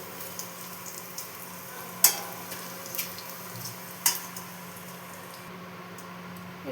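Whole spices (bay leaf, dried red chillies, whole black peppercorns and whole cumin) sizzle in hot tempering oil as a steady, soft frying hiss, broken by two sharp pops, with no voices.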